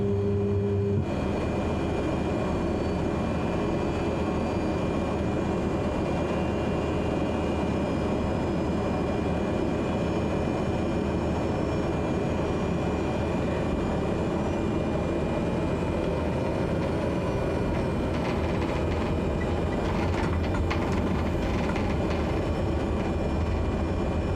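Aircraft taxiing in Microsoft Flight Simulator 2020 on a rainy day in Durban, a loud, continuous low engine rumble and drone that holds steady throughout, with faint higher tones riding on top.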